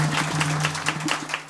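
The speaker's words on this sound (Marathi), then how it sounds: "टाळी वाजवा एकदा" An audience claps at a Marathi kirtan religious discourse in Lakhalgaon village, a loose run of hand claps lasting a second and a half over a steady low hum.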